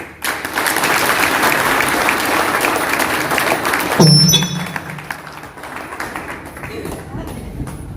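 A large crowd claps loudly and steadily at a celebration event in Chapra, Bihar, the dense applause carrying for several seconds before thinning into scattered claps and background noise.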